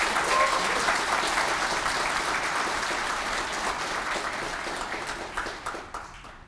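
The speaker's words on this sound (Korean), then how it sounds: "큰 박수로 환영해 주십시오." Steady, dense applause from a large crowd at a political campaign event in Yongin, South Korea, loud and continuous, tapering slightly toward the end.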